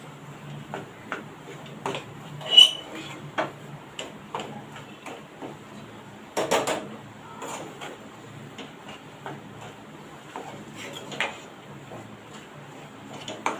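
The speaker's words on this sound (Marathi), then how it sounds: "आता आपण हे मिक्स करून घेऊया परत दोन मिनटं चांगलं परतून घेऊया" Quiet, irregular clicks and scrapes of a utensil against a pan as mashed potato filling with coriander is mixed and sautéed for street-style bread patties, with a few sharper knocks scattered among softer stirring sounds.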